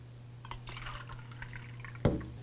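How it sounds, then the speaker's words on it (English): Water poured from a pitcher into a small glass makes a quiet, brief trickle over a low electrical hum and ends in a sharp splash-like knock. "Then you fill the smallest with water."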